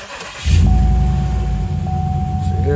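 A car engine cranks and catches, then settles into a steady, close idle rumble with a faint whine running through it.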